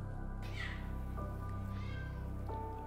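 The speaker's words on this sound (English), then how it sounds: "My cat says hi" A pet cat meows indoors, two or three drawn-out calls close to the microphone over a steady low hum.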